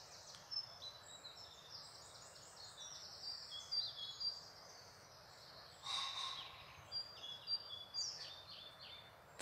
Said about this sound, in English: So that's the song of a pie flycatcher.